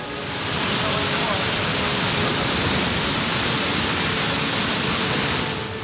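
Floodwater pouring from a hillside into a temple complex during heavy rain, a loud, unbroken roaring rush like a waterfall that fills the whole clip without pause.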